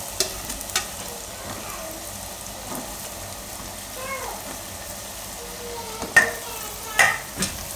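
Eggplant pieces frying in oil are stirred in a pot, giving a low continuous sizzle with a few sharper scraping knocks near the end.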